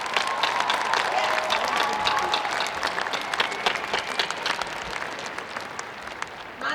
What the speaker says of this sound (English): You need to give yourselves a big round of applause.